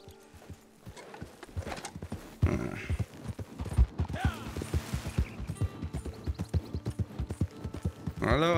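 Horse hooves clip-clopping at a walk in the video game Red Dead Redemption 2, a steady close rhythm of hoofbeats with occasional snorts and a brief whinny, faint background ambience beneath.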